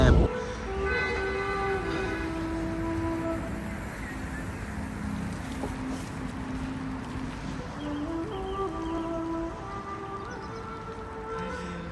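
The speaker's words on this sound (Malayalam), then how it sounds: "തല കുത്തനെ പോകുന്ന ട്രെയിൻ" A train rumbles steadily along with a continuous mechanical roar and tonal whine, loud and close throughout, with brief hornlike tones rising and falling.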